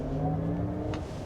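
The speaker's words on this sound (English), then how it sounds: "The way this car drives is really nice, especially with the V mode on." Cadillac Vistiq luxury SUV driving in V mode, a steady low engine and road drone held evenly for a moment, with a brief faint click partway through.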